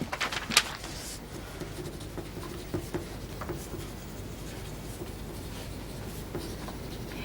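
A pen scratches out a note on paper in a quiet indoor scene, with faint, close, irregular strokes and small taps continuing steadily throughout.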